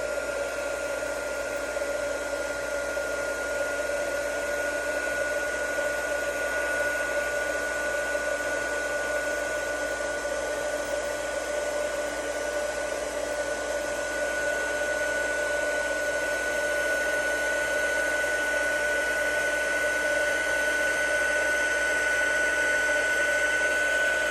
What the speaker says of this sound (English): So I'm gonna go ahead and start up my heat tool and get this going.